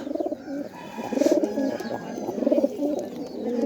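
Pigeons coo in repeated soft, throaty phrases, close by and steady throughout, with no talking over them.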